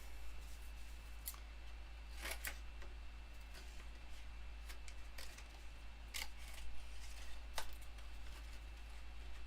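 Scissors trimming paper for a Stampin' Up card, a few crisp quiet snips spaced out over a low steady hum, with no voices.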